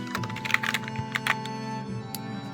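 A cat named GG walking across a computer keyboard, a quick cluster of irregular soft key clicks and taps, close and fairly quiet over a faint background hum.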